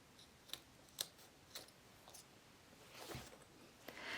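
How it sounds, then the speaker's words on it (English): Scissors snipping loose threads and zipper tape ends on a sewn cosmetic makeup pouch, a few quiet, crisp cuts spaced about half a second apart, followed by soft rustling of fabric, close and faint. "Now I'm going to trim my threads."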